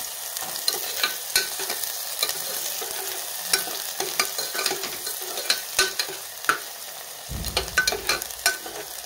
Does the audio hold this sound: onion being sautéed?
yes